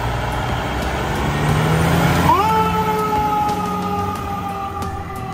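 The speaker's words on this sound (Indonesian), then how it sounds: "Mobil truk tangga pemadam kebakaran." Toy fire ladder truck siren, a steady electronic tone that switches on partway through and holds its pitch, loud and close against a busy background noise.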